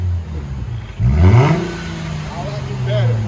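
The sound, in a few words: Mercedes C300 4MATIC engine revving, dual exhaust with muffler delete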